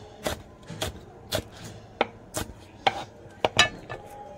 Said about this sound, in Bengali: এটা ছোলা ভাজবো, সেই কারণে লঙ্কাটা কাটছি